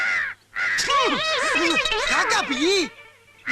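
A crow caws repeatedly in a comedy film scene, a run of loud, close, rising-and-falling calls that fill most of the moment, with a short gap at the start and the calls ending just before it closes.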